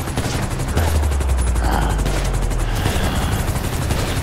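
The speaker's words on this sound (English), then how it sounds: "Get inside the helicopter." Loud helicopter rotor thumping steadily, with chaotic gunfire-like bursts layered over it, filling the whole clip, in the video game GTA V.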